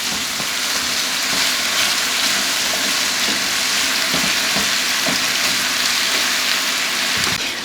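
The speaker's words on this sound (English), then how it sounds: "the grease from the sausage is coating the pierogies. So I'm just going to keep frying these up" Pierogies sizzle and crackle steadily in sausage grease in a hot pan, with occasional soft scrapes and stirring sounds.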